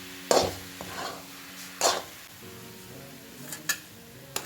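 Grated coconut being stirred and dry-roasted in a pan for coconut ladoo, with a few sharp scraping strokes and a low sizzle under steady background noise.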